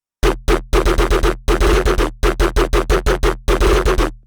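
Layered synth bass hits stacking sub, body, gun and snare layers, with the snare transposed to keep its fundamental, played as a loud, punchy pattern of about twenty short, closely spaced notes in an irregular rhythm, alone with no talk.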